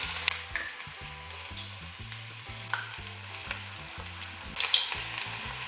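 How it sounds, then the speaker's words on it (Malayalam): Small pinched pieces of snack dough, made partly with bread, frying in hot oil as a steady bubbling sizzle with crackling pops. A loud musical backing runs beneath, and no one speaks. "എണ്ണയിലിട്ട് ഇതിനെ നമുക്ക് പൊരിച്ചത് എണ്ണ എടുപ്പത്ത് വെച്ച് ചൂടായി ഇട്ട് കൊടുക്കാം"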